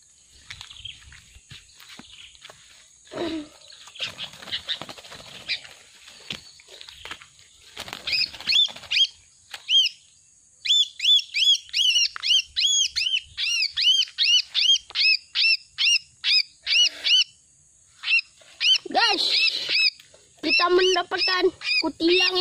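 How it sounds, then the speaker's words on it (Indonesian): A trapped sooty-headed bulbul, caught in a simple bird snare, calls loud and close in a long run of sharp, repeated chirps after scattered rustling and handling noises. "Mendapatkan kutilang ya guys"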